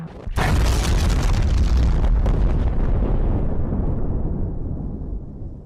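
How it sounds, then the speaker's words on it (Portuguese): A loud explosion from a FNAF fan animation bursts in abruptly, then rolls into a long, heavy rumble that slowly fades over several seconds, with no voices. "Então Candy, Ratch, Pinguim e o Cat vão para o local da explosão e encontram tudo destruído depois da guerra, até que eles encontram o Vinny."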